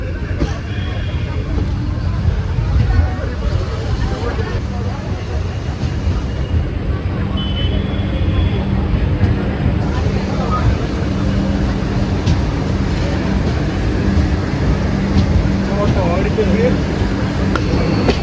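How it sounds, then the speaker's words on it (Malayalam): The Mizoram Express rolls into Kozhikode railway station with a loud, steady low rumble and a droning hum that lasts throughout, mixed with murmuring crowd noise. "മിസോറാം എക്സ്പ്രസ് കോഴിക്കോട് റെയിൽവേ സ്റ്റേഷനിലേക്ക് കയറിക്കൊണ്ടിരിക്കുകയാണ്."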